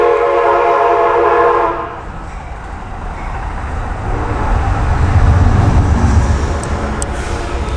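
A train rolls past with a loud sustained horn blast at the start, then the heavy rumble and clatter of wagons continuing close by.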